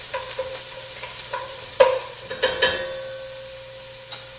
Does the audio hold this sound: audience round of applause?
no